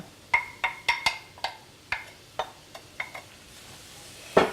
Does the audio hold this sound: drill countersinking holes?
no